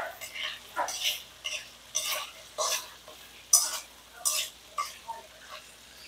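Ingredients for pechay guisado sizzle in a frying pan while being stirred, with about a dozen rhythmic scraping strokes over a steady hiss, close and fairly loud.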